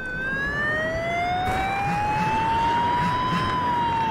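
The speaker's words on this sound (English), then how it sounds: "Parang narinig ko yung siren ng pulis." A police siren wails continuously, its pitch sweeping slowly up and down, loud and fairly close, with no talking over it.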